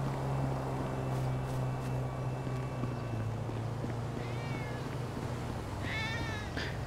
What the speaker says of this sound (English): Another tabby cat. Can we pet it?